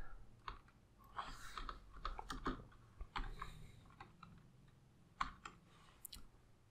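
Keys clicking on a computer keyboard while a password is entered, with irregular bursts of soft taps and a few louder strikes, close and quiet, no speech.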